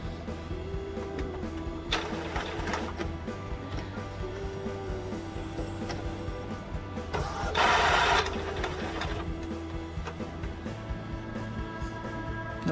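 An Epson L-series inkjet printer whirs and clicks as it starts up after an uncontrolled carriage fault repair, with a steady mechanical hum and a louder burst of motor noise partway through.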